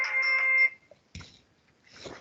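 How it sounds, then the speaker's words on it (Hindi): A phone ringing during a lecture: a bright electronic ringtone with steady tonal pulses for under a second, then stopping, followed by faint rustling and a short burst of background noise. "एक मिनट, मैं फ़ोन सुन लूँ।"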